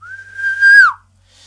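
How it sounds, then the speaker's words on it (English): One short whistle blast, a clear steady tone lasting under a second that swells, then dips and cuts off, heard alone. "if you blow a whistle"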